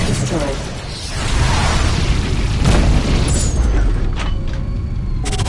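A ship target blows up in the PS4 space game Rebel Galaxy: a loud rolling boom swells and lingers, with a few sharp pops and faint whooshes over steady rumbling game noise.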